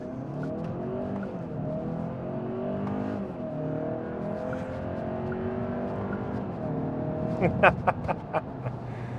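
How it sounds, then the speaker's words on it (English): A 2025 Hyundai Santa Cruz XRT pickup with a 2.5-liter engine accelerates in sport mode under manual shifting. A steady engine drone climbs in pitch as it pulls, with a few sharp clicks near the end. "start this video out as normal with an acceleration test"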